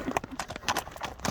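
A horse walking slowly, hooves clip-clopping in a quick uneven series of close knocks, fairly quiet with no talk.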